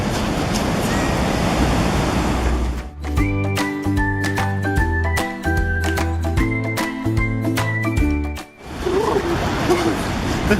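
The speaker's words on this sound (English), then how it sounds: "therefore we will now jump into the water." Surf rolls and washes along the Pacific coast, where the ocean is cold; steady wave noise opens and closes the stretch, while music takes over in between.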